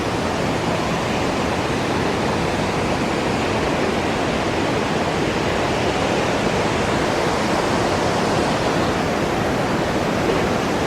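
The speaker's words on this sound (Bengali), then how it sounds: "আর এই হচ্ছে ফলসটা আমরা ঠিক ফলসের ঠিক ডান পাশ ঘেসে দাঁড়িয়ে আছি" Montmorency waterfall in Quebec roars as a steady, loud, broadband wash of falling water, heard up close from beside the falls with no voices.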